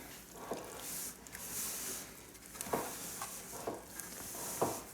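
Bread dough made with poolish is mixed by hand in a bowl, giving soft wet squishes and slaps at an irregular, unhurried pace, faint and close, with no voices.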